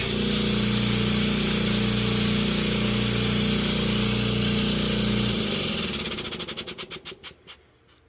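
A repaired Paasche Model D airbrush compressor hums and rattles steadily at close range, loud and even, then switches off and winds down in slowing pulses to silence.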